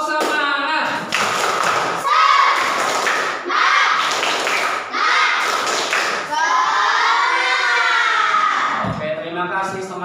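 Schoolchildren in a classroom clap a rhythmic spirit chant in loud bursts of claps and shouted voices, mixed with crowd noise and a teacher's speech.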